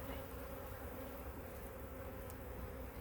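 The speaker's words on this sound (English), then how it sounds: "there's a load of bees in there" Dense, steady buzzing of a crowd of honeybees inside an opened beehive during a hive check, continuous and close with an even hum throughout, no voices.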